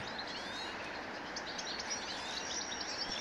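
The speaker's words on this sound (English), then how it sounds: "Much bird sounds, exactly. I like the birds." Birds chirp and tweet in a steady outdoor chorus, a dense wash of small high calls over soft constant background noise.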